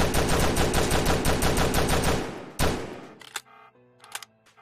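Rapid bursts of automatic gunfire ring out in the Stick Em Up convenience store robbery game, a dense sustained volley that stops abruptly, followed by a few scattered single shots and clattering impacts.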